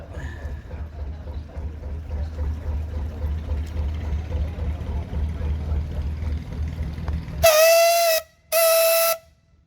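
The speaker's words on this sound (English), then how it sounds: "Give us a whistle, Andy." A low canal boat engine rumble runs steadily, then a loud boat whistle sounds twice in long blasts, separated by a short pause, at a canal boat parade at Alvecote.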